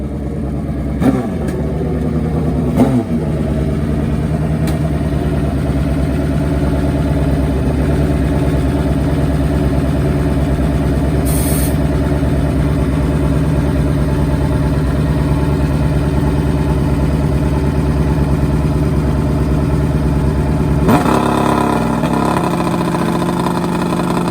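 A drag racing motorcycle engine runs steadily at the line at a trackside event, a loud continuous idle drone with a brief rise and blip near the start and another swell toward the end.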